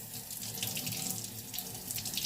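A kitchen tap runs cold water into a sink while raw chicken breast is rinsed under it, giving a steady close splashing stream at low level.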